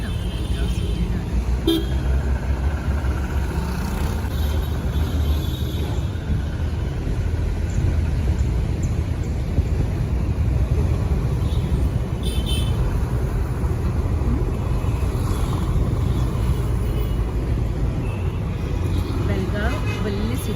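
Busy afternoon street traffic in Belgaum city, with a constant rumble of cars and buses and repeated toots of car horns, loud and close, under a voice talking throughout.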